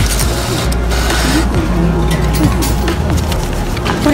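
Taiwan train ticket vending machine taking cash, with a close, steady mechanical whirring and feeding noise from start to finish, with a few faint clicks.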